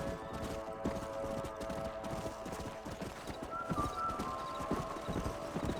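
Steady clip-clop of several horses' hooves trotting in the video game Red Dead Redemption, with a short whinny partway through, loud and continuous over a rumbling background.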